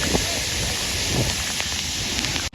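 Roaring rush of Depivali waterfall, a dense, steady, loud wash of falling water heard up close, cutting off abruptly at the end.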